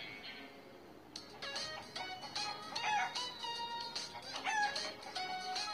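A rooster crows close by, a drawn-out cock-a-doodle-doo, with a second bird calling faintly behind it.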